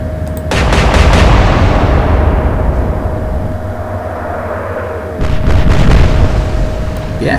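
Naval guns fire in the Atlantic Fleet war game during a Royal Navy versus Kriegsmarine battle, with a loud salvo of booming shots followed by a long rumbling decay and then a second burst of blasts.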